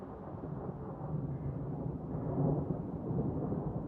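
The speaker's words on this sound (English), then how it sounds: "The storms are coming." Thunder rumbles low and continuous through a video game storm, with a soft wash of rain, dull and muffled at moderate loudness, swelling slightly midway without any talk.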